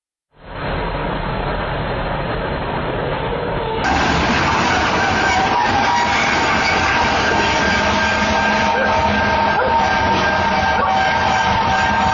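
A loud, continuous roar of a train rumbling along the tracks, growing fuller and louder after a few seconds and holding steady.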